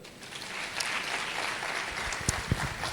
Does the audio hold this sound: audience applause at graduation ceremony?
yes